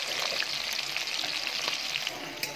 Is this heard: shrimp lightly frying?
yes